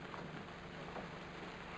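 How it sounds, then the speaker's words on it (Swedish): Rain falling outside, a faint, steady patter heard from indoors with no talking over it. "Det regnade där ute så jag kom in."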